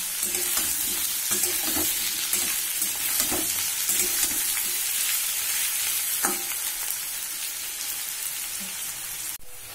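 Chopped onion and crushed garlic fry in a pan for a Bengali-style oyster curry, giving a dense, even sizzle close by with soft scraping taps from stirring throughout.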